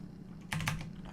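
A few quick keystrokes on a computer keyboard, soft close clicks in a short burst over a low background hum.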